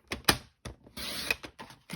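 A paper trimmer slices through cardstock for card making in a few quick, close mechanical strokes and clicks separated by short pauses, with no talking.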